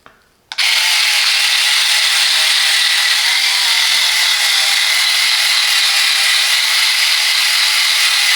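A Parkside PMSA 4 A1 cordless multi cutter cutting through leather, its motor starting abruptly and then running as a steady, loud, close-up buzzing whir for several seconds without a break.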